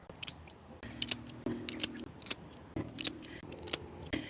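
Garden scissors trimming back an overgrown plant: a series of quiet, crisp snips, some single and some in quick pairs, spaced irregularly with brief rustles between cuts, no talk.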